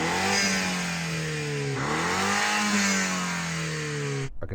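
A BMW M135i engine revs hard, its rising and falling harmonic whine sweeping up and down twice over several seconds, loud and close, before cutting off abruptly at the end; wind noise outdoors.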